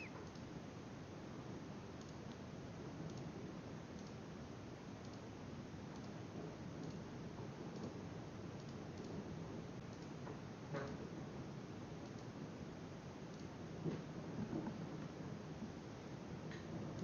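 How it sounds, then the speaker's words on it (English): Thunderstorm outdoors with steady rain and low rumbles of thunder, a continuous wash of rainfall with a slightly stronger burst near the end, no voices. "there's a storm outside"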